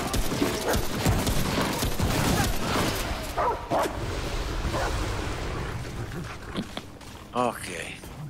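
A dog companion barks amid gunfire and combat noise in the co-op action game Remnant: From the Ashes, with players talking over the busy, dense fight.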